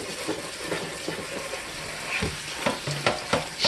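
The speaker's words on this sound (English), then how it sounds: "put them inside a colander or a drainer. And rinse them off." Strawberries being rinsed in a colander under running water, a steady close splashing stream with small clattering knocks as the berries shift, no voices.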